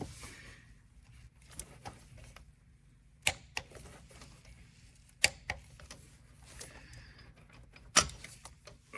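A torque wrench tightening a spark plug on a 2022 Ford F-150 3.5L EcoBoost engine: faint ticking ratchet clicks with several sharp, isolated click peaks spread out, close and quiet, with no talk.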